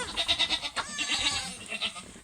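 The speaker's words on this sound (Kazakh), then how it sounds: "Ешкілер." Several goats bleat in quick repeated, wavering cries at close range on a farm, one call overlapping the next, with a faint rustle of livestock beneath.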